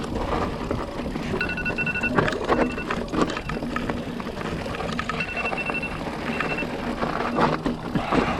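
Phone alarm reminding of trash day, heard outdoors on a mountain bike trail as faint repeating high beeps in short bursts, largely buried under steady wind and riding noise.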